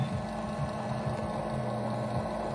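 Oil pump on an XYZ Proturn 420 lathe during its first power-up, a steady low hum and whir that runs continuously and evenly, near and moderately loud, with no talk.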